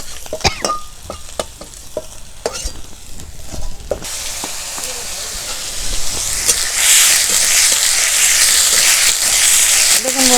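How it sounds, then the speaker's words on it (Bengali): Tomatoes frying in a pan for a silver carp curry, starting with clattering stirring taps and then swelling into a loud, continuous sizzling hiss, with a voice talking over it. "দেখুন বন্ধুরা, টমেটো ভালো করে একটু ভেজে নেব।"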